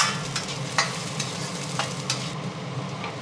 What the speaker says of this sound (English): Then on the high heat, we toss in the ginger and garlic we prepared earlier and give them a quick stir fry.